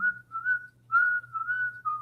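A person whistles a short, clear tune of sustained notes with a brief pause in the middle, heard close and alone over a faint low hum.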